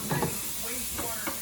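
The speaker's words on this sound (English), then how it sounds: "Steak's cooking." Steak sizzles in a pan with a constant hiss, broken by a few soft knocks and clatters nearby.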